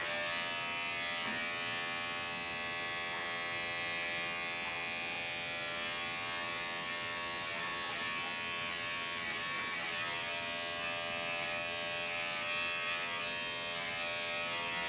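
Electric clippers shave down a Chihuahua's coat with a steady, close, unbroken buzz that runs throughout, with no talking.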